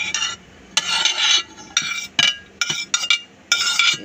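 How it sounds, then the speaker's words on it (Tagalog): Shanghai roll filling with garlic and onion stirred in a bowl, bursts of scraping and clinking from a utensil in an irregular rhythm, close and fairly loud, separated by short pauses. "Mix lang po natin lahat to."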